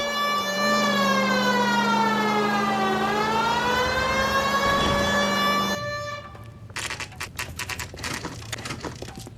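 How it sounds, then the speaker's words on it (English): In the L.A. Noire video game, a police car siren wails loudly in a long rising and falling sweep for several seconds, then stops, leaving softer clattering driving noise behind. "we might get there quicker if you use the siren"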